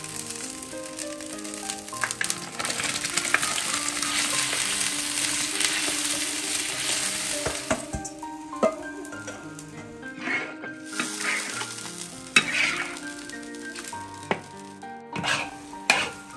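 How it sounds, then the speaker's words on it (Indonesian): Burasa rice is stirred with coconut milk in a pan, giving a soft bubbling sizzle with scraping and clinking of a utensil against the pan, close and fairly quiet, with sharper knocks toward the end. "ini kita aduk sampai agak kering karena nanti kalau lembek burasanya juga akan lembek"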